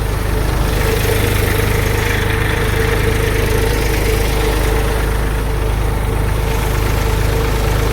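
A tractor engine idles nearby during groundnut harvesting, a loud, steady low rumble with an even throb that never changes for the whole stretch.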